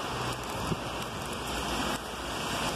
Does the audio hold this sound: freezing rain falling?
yes